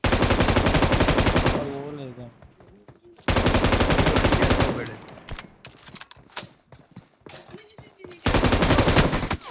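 Machine gun fire in the mobile battle royale game BGMI comes in loud, rapid sustained bursts separated by short gaps, while players talk excitedly over it.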